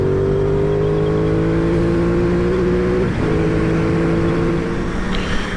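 A 2021 Aprilia Tuono 660 motorcycle being ridden, its engine droning loud and steady with a sustained hum that shifts pitch slightly as revs change, heard from on the bike with wind noise and no speech.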